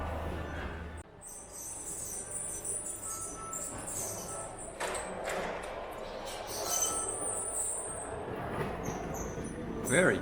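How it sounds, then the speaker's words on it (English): Model trains running on a layout in a Portland museum, rolling and rattling quietly with occasional higher metallic squeals, while people talk faintly in the background. "So here's some other model trains."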